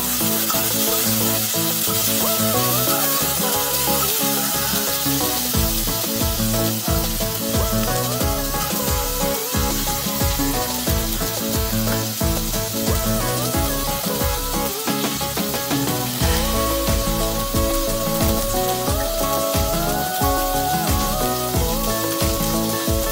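Hard squash pieces sizzle steadily in a hot pan while being sautéed for an Ilonggo home-cooked dish, the frying hiss continuous and close with a dense crackle throughout.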